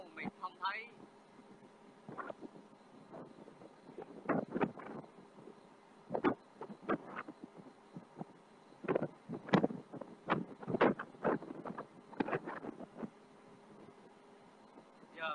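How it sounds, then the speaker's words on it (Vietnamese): Wind buffeting a microphone aboard a fishing boat at sea in stormy, rainy weather, coming in irregular loud gusts and bursts over a faint steady background. "Đây là trời hại nè, mây mưa gió mù mịt không thấy."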